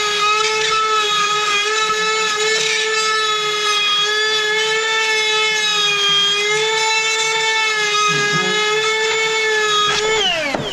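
A power drill drives screws into drywall, its motor giving a loud, steady high whine for about ten seconds before spinning down sharply at the end.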